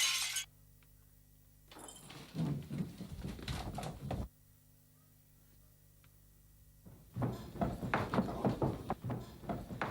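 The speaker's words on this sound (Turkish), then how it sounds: "Top oynarken camı kırdılar" Window glass breaks in a domestic scene, a bright shattering crash followed by tinkling, scattered fragments, with short bursts of clattering noise and quieter pauses in between.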